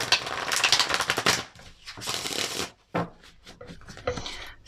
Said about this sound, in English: Let's give these a quick shuffle.